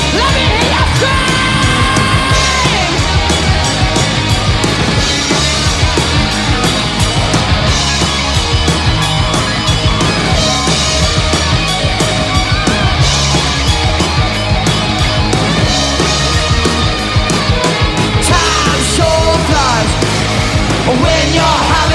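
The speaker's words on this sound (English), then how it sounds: "Let me hear you scream." A concert crowd at a live show screams and yells, a dense, loud, continuous roar that fills the whole stretch with no break.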